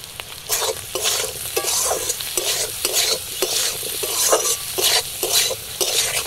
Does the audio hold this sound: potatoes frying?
yes